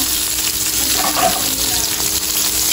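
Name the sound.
pork caldereta ingredients sizzling in frying pan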